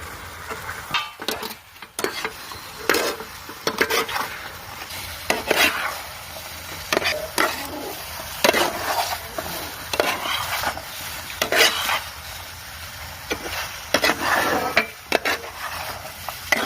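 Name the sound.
stirring fried cauliflower (gobi manchurian) in a pan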